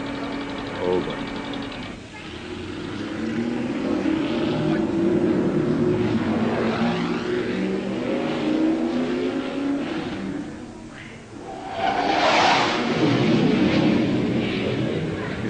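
An old car engine revs with a sustained rumbling drone, then surges louder near the end, heard fairly close and steady throughout, in a quiz-like listening demonstration.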